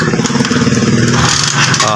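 A motorcycle with an overcharging five-wire voltage regulator fault runs loud and close, its engine holding a steady, throbbing idle for the whole stretch with no pauses.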